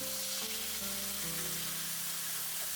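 Pork ribs fry in a pan with crystal sugar, giving a steady, close sizzle with faint stirring and no talking.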